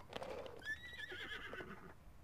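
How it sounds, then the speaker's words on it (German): A horse neighs in the Zelda: Breath of the Wild video game, a single clear whinny rising and trailing off over soft background game ambience, with faint clip-clop hoof sounds mixed in. "Mein Pferd ist tatsächlich mitgekommen."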